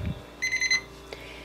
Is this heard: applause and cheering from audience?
no